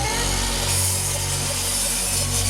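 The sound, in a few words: sawing wooden shelving boards to length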